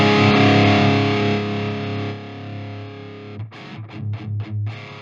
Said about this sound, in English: This is how a 150 watt tube head sounds at bedroom level.